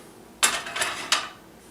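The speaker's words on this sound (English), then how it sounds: "we put on a frying pan" A frying pan set down on a stove, a few close metallic clanks and scrapes in quick succession over about a second, then quiet.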